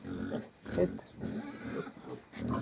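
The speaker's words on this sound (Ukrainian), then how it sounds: "ще трошки про чисто угорську мангалицю поросята" Mangalica piglets grunt and squeal while scurrying about, with a person talking over the busy, close-up snorting.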